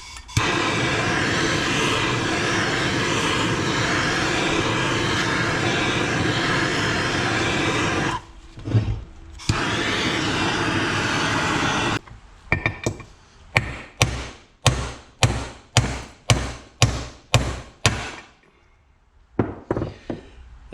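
A main crank bearing is hammered out of a Kawasaki KX250F engine case: a long steady mechanical whir and a brief gap, then about a dozen sharp metallic hammer blows in a regular rhythm, close and loud.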